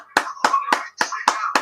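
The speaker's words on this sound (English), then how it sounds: "A round of applause there." Six sharp claps spaced roughly a quarter second apart ring out close and clear, a brief round of applause for a team captain on a casual Sunday virtual call, with no talking over them.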